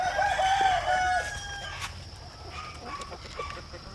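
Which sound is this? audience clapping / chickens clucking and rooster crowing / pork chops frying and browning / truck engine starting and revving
chickens clucking and rooster crowing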